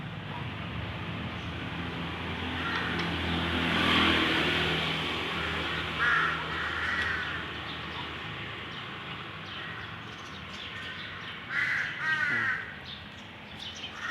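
Crows caw repeatedly in harsh bursts, some near and some farther off, over a steady rumbling background.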